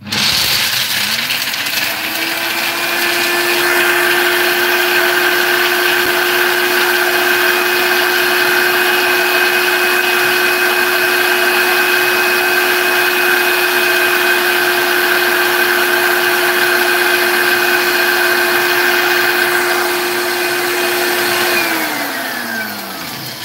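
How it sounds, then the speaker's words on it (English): An electric blender grinds dry herbs into powder, a loud steady motor whine that spins up, holds an even pitch for about twenty seconds, then winds down, close and alone with no talking. "the blender can handle it and blend all of them very well"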